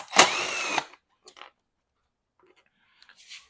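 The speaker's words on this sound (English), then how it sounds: "So you got to loosen out this screw over here, the bolt, one on this side." A power drill loosens a seat bolt on a 2020 Honda CRF125 dirt bike, giving one loud close whirring burst of just under a second, followed by a few faint clicks and small handling noises.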